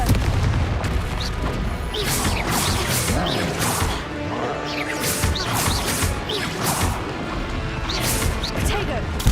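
Repeated Confringo explosion spells in Hogwarts Legacy combat, loud crashing blasts and booms with whooshes and impacts layered densely throughout, under ongoing talk.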